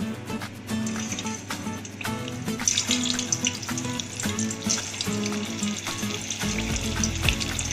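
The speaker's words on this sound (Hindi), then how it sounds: "सबसे पहले हम आलू फ्राई कर लेंगे।" Potato pieces deep-frying in hot mustard oil for dum aloo, a steady loud crackling sizzle with bubbling pops that runs without pause from start to finish.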